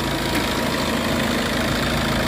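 Tata Xenon XT 2.2 turbo diesel 4x4 manual pickup, 2020, engine idling smoothly with a steady low rumble and even vibration, close and continuous with no talk.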